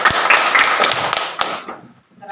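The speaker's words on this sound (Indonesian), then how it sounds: "Oke baik, kita tepuk tangan." Students in a classroom clap together in a short, bright burst of many hands that fades out quickly, followed by a brief voice.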